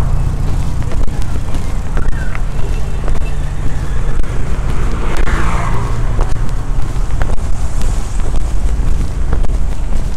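Congested street traffic at a junction in The Gambia: a continuous loud rumble of vehicles heavily buffeted by wind on the microphone, with passing engines blending into the roar.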